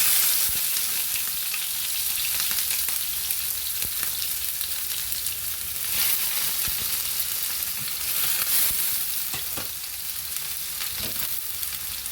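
Tomatoes, green chilies and ginger-garlic paste fry in mustard oil for an Andhra tomato curry, a steady dense sizzle with occasional stirring scrapes running unbroken and fairly close throughout, with no voices.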